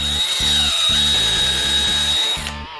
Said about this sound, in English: We'll take our drill with our blank squaring jig, and all this does is it trims the blank to the length of the tube and squares it off.